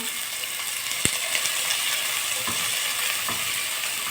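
Onions fry in hot oil in a pan and are stirred, a close, constant crackling sizzle with a sharp utensil knock early on and a few light scrapes.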